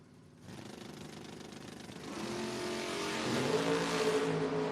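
Drag racing cars, a Camaro and a Valiant, run down the strip with a steady engine drone building to a louder revving roar as they accelerate, heard from a distance.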